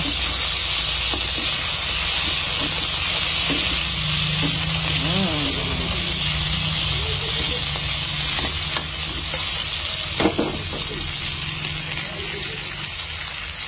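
Onion frying in a pan gives a steady, loud, close sizzle and hiss that runs throughout, with occasional stirring clatter and brief voice sounds in the background.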